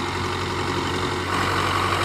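A Belarus tractor engine runs steadily in an open field, a continuous low diesel rumble with a faint hum on top, close and moderately loud with no talk.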